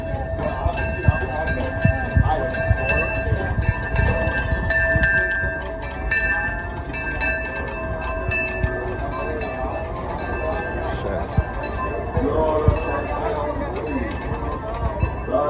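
The Disneyland Railroad train rolls along at Disneyland with steady rumbling and mechanical hum, while people chatter nearby throughout.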